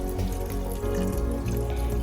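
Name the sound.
pouring cornflour slurry into chilli gobi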